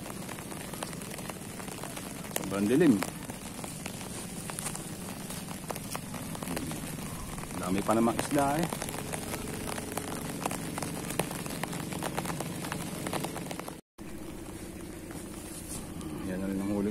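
Steady patter of rain on a surface throughout, outdoors while fishing, with someone speaking briefly over the constant hiss.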